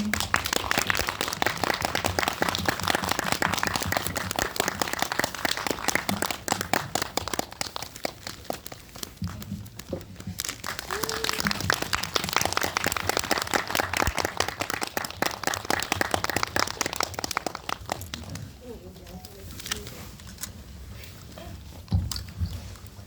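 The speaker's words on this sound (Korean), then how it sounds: "박수 쳐주세요" An audience at an indie film talk event in a cinema claps for the director and actors arriving, dense applause lasting many seconds before thinning into scattered claps and shuffling.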